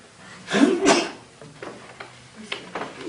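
A single sharp sneeze bursts out, followed by quieter rustling and faint sounds in a room.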